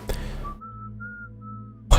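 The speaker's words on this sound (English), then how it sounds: "Why does he have to whistle?" A video game character whistles a short, thin tune of a few sustained clear notes, fairly loud and close, set between bursts of other noise at the start and end.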